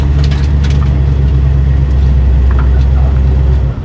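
A 1972 Dodge Dart with headers runs close by, its engine idling in a loud, steady, low rumble that holds evenly for a few seconds before easing off at the end.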